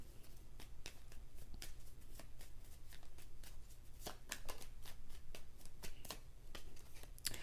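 Tarot cards shuffled in steady, rapid riffles and slaps, a continuous papery flutter with sharper snaps throughout, close up over a low background hum.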